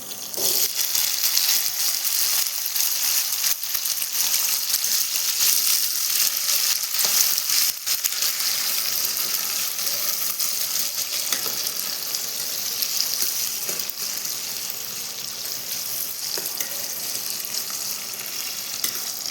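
Small shallots fry in hot oil in a pan for a fish curry, a loud continuous hiss and crackle with faint stirring scrapes, steady and close throughout with no voices.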